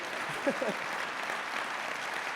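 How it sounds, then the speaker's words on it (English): An audience claps steadily at a camp alumni speech, a dense, even patter of applause throughout, with a brief voice near the start. "so hold that applause a little bit"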